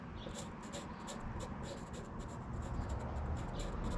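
A marker draws quick line strokes on a surfboard, producing soft, close scratchy rasps in a fast uneven rhythm over a steady background hum.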